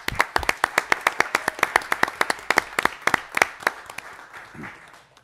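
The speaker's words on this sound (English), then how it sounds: "We have another round of applause for these exemplary students." Scattered claps from a small group in a school governing board meeting, applauding exemplary students with sharp, close hand strikes in an uneven, loose rhythm that tapers off near the end.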